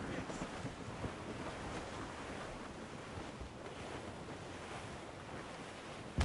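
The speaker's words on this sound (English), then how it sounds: "It's quite a rough squall" A rough squall at sea in Assassin's Creed Rogue, with steady rushing wind and churning waves around a sailing ship, a continuous broad roar at moderate level without clear speech.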